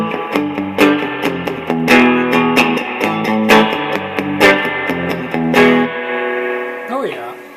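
An electric guitar plays through a late-1970s Yamaha amplifier in higher gain at low volume with the reverb at 10, giving a run of bright picked notes with a wet reverberant tail, ending in a springy reverb crash.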